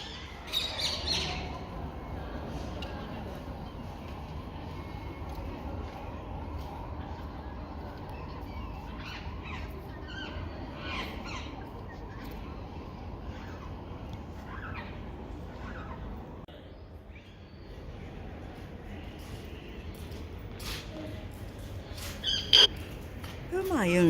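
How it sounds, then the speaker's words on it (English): Green parrots nesting high in an archway of Humayun's Tomb in Delhi give scattered sharp squawks and chirps, mostly distant and intermittent over a steady ambient wash of outdoor crowd and wind noise, with one louder call near the end. "there were some green parrots making a nest in the top of one of the archways"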